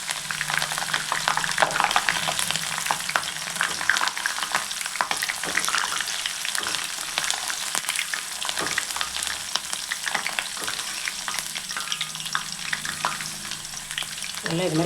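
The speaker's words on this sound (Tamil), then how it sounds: "நல்லா இது மாதிரி கிளறி விட்டுக்கிட்டே இருங்க," Sliced ladies finger and chopped green chillies fry in hot oil with curry leaves, a loud, dense, continuous sizzle broken by repeated scraping and stirring strokes.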